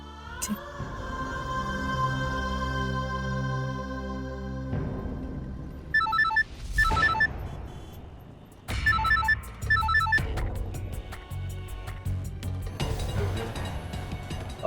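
A telephone rings in repeated short bursts during a call attempt at a noisy family gathering full of guests, the ringing standing out over steady loud background music.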